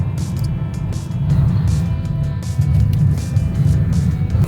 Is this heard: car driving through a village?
yes